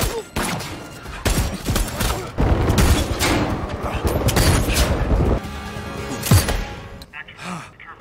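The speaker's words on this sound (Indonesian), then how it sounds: "Sekeluarnya dari bangunan tersebut, Mike harus menghindari tembakan dari helikopter menuju ke titik penjemputan" Helicopter gunfire in an action film scene, dense bursts of shots and heavy booms that come in waves, with a voice talking over part of it.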